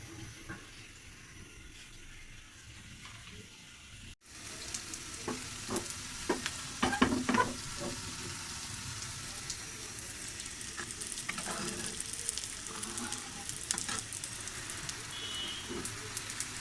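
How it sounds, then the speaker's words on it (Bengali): Panch phoron with onion and garlic dropped into hot oil for tempering, crackling and sizzling steadily close by with occasional stirring scrapes, continuing without any talk. "এক চামচ পাঁচফোড়ন আর হচ্ছে পেঁয়াজ রসুন দিয়ে বাগার দিয়ে নিলাম।"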